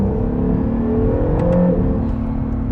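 A 2019 Acura NSX supercar engine revs hard and steady up close, a dense continuous roar with rising tone, no talking over it.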